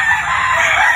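Roosters crowing loudly on a gamecock farm, a continuous close cock-a-doodle-doo with other fowl clucking and calling underneath throughout.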